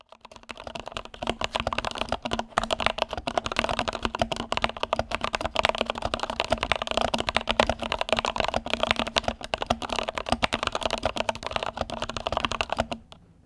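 Rapid, continuous clacking of keys on an Epomaker NT68 mechanical keyboard, typed briskly and close up for several seconds with no talking.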